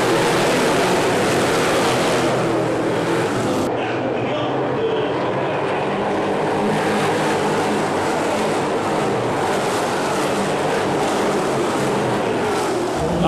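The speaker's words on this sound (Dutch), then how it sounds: "alle fans van de grote Amerikaanse auto's, waarvan de meeste motoren vermogens hebben tot wel 700 pk" NASCAR stock cars with engines of up to 700 horsepower roaring at the start of a race, a loud, dense, continuous engine roar that fills the whole stretch without a break.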